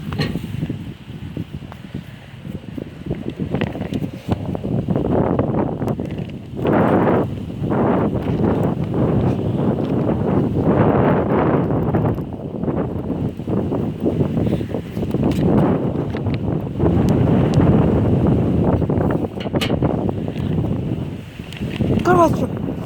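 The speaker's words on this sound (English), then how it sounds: "It's really windy." Strong wind blowing outdoors, gusting in rumbling surges against the microphone while someone talks over it throughout.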